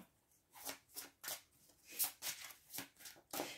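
Oracle cards are handled and shuffled close up in a quiet room, about a dozen soft papery riffles and slides coming in an uneven rhythm.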